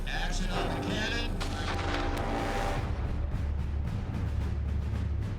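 Cannon fire in a war movie battle scene booms loud and close, a heavy blast rolling into a long rumbling tail with crackling debris, all amid dense battle noise.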